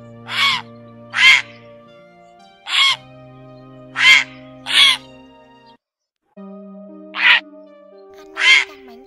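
A grey heron gives about eight harsh, croaking calls at irregular intervals, each loud and close, over steady background music tones.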